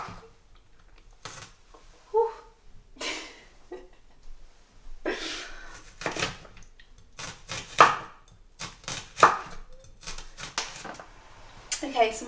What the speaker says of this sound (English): my onions are now finely chopped